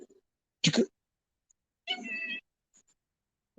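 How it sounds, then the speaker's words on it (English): A Siamese cat lets out two short meows close by, a brief sharp call followed by a longer tonal one, with quiet gaps around them. "Oh, Siamese kitty cat."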